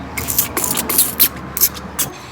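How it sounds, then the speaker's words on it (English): Several short hissing spray bursts from a pump bottle spraying dryer-sheet solution onto a car bumper, irregularly spaced, close by, with faint handling noise between them. "I'm gonna spray it with the dryer sheet solution."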